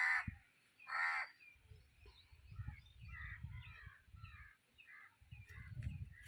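Two harsh crow caws ring out near the start in a neighborhood lane, followed by quieter chattering bird calls and low rustling in the background.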